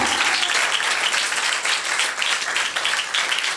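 A church congregation at a Sunday Pentecostal service applauds, a dense, steady burst of many hands clapping that fills the whole stretch, loud and close with no speech over it.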